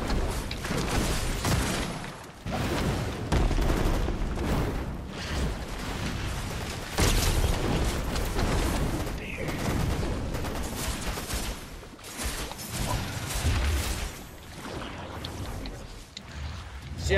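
Shotgun blasts and gunfire in the video game Fortnite, loud bursts scattered through a dense, busy game mix, with people talking over the action throughout.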